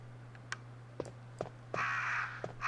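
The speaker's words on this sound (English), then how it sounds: "Ah, there's a crow in here." A crow in the Resident Evil video game caws in a few short, sharp separate calls, followed by a longer, louder squawk, all over a steady low electronic hum.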